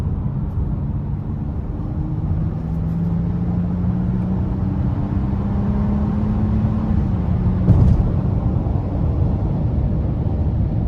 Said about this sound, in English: I'm gonna give it just a bit of throttle getting on the interstate before I put it into economy.